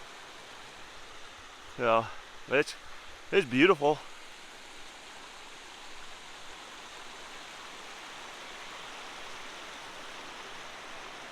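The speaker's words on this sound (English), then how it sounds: "We found our river, our little creek, little stream." A little forest creek flows with a steady, soft broadband rush throughout, near and continuous, while a person speaks briefly over it at the start.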